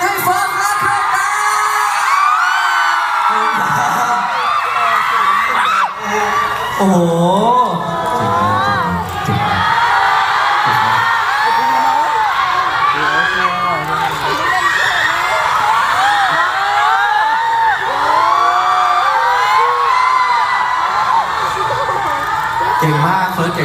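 A concert audience screams and cheers continuously and loudly, shrill whoops and yells overlapping throughout, with a voice briefly exclaiming amid the roar.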